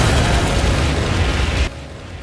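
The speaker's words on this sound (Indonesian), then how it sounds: "bom meledak dengan hebat." A bomb detonates in an action film, producing a loud, dense roaring blast that sustains for over a second and then cuts to a quieter lingering rumble.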